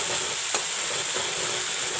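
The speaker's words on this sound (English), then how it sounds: "let the masalas fry properly." Masala spices fry in a pan for banana kofta curry, giving a steady close sizzle with a faint stir or scrape now and then.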